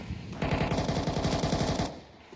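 Rapid Desert Eagle pistol shots in a Counter-Strike esports match, a dense burst of sharp reports lasting about a second and a half and then cutting off, heard alone without talk.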